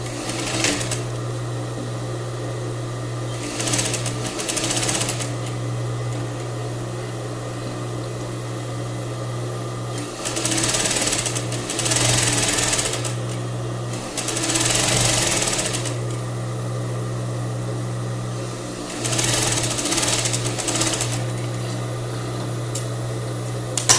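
A sewing machine stitches a rolled hem on crepe fabric in several loud, steady bursts of whirring, separated by pauses in which a low hum continues.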